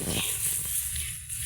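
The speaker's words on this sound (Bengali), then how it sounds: "কুকুরে ঘেউ ঘেউ করতেছে" A dog barks once, brief and fairly near, in a village, followed by a steady outdoor background hiss.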